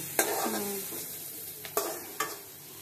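Shrimp with pointed gourd, teasel gourd and potato sizzles in hot mustard oil in a pan, a steady fry hiss broken by a few sharp spatula scrapes and stirs.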